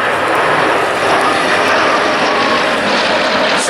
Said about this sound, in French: un des avions les plus phénoménaux de l'histoire de l'aviation militaire française, le C-160 Transat